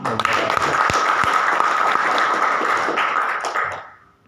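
Steady crowd applause, dense and sustained clapping from a sizable audience, fading out near the end.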